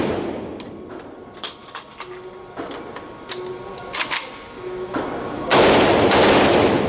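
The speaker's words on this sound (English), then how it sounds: "Always a pleasure to shoot at the range at Austin." Gunshots fired at an outdoor shooting range in Austin, sharp cracks scattered irregularly, some single and some in quick bursts, fairly close and loud, with a denser burst of fire near the end.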